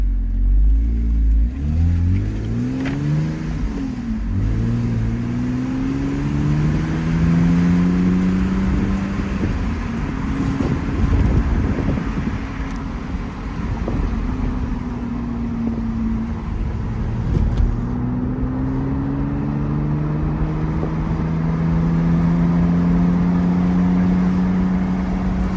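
BMW Z4 sDrive 2.5 luxury-trim 2011 car engine with a small exhaust flap opening, steady loud revving with rising and falling pitch sweeps as it pulls through gears, close and continuous with no talk.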